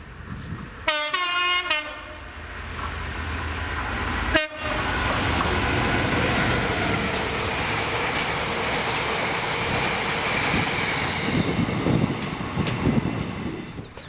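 A Class 66 diesel locomotive in Maritime livery hauls an empty cement train past, opening with a loud multi-tone horn blast and a second short hoot, then a steady, close roar and rumble of wagons rolling by.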